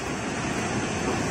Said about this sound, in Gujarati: દેવઘાટ ધોધ સોળે કળાએ ખીલ્યો છે।